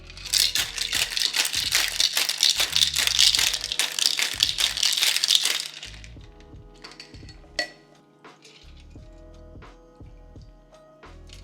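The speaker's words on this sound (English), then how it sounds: "what we're gonna do is just shake this all up and pour it into our glasses" A cocktail shaker holding a cranberry, rosemary and olive oil martini is shaken hard for about six seconds, ice rattling in a dense, rapid clatter, then set down, followed by a few light clinks and taps in a quiet kitchen.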